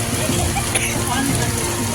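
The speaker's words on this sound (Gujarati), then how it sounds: "ચારે બાજુ વરસાદ છે આજ તો." Rain falls all around on a city street in Surat, making a dense, continuous wash of patter and splashing while voices talk over it.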